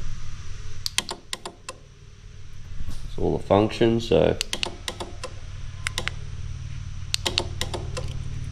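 A remote control kill switch relay clicks in sharp, crisp ticks, in separate pairs and quick clusters, close and loud against a low hum, with a short burst of speech in the middle.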